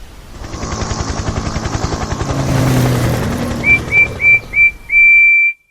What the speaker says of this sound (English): At the airfield nearby, there was a helicopter buzzing loudly as it waited to land.